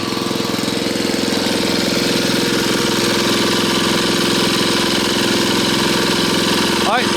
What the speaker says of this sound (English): I just want you to listen to it. It's not revving high.